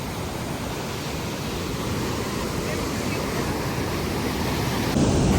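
Rushing water at a dangerous spot, a loud and continuous broadband roar that swells slightly toward the end, close to the microphone.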